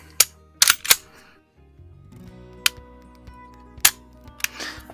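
Sharp metallic clicks from the dry-fired trigger of a Sig Sauer DA/SA pistol fitted with an adjustable trigger, with softer reset clicks between them, irregular and close, over a quiet background.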